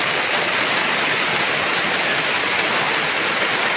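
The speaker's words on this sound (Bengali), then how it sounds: "প্রচণ্ড পরিমাণ বৃষ্টি হতেছে।" Heavy rain pours down steadily during flooding at Munshirhat market, a loud, unbroken wash of noise with no break.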